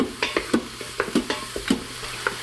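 Mushrooms sautéing in butter, stirred with a utensil that makes quick repeated scraping clicks, around a dozen in an uneven rhythm, over a faint background sizzle, close and clear, no one talking.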